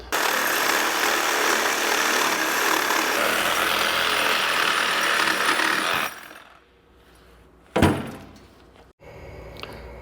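A power tool cuts through a Dana 30 axle housing with a loud, steady, close grinding roar for about six seconds. It then cuts off, followed by a single sharp metallic clank and quieter shop noise.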